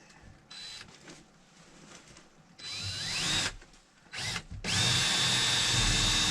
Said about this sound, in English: Started pre-drilling all the holes because of how many bolts I was breaking.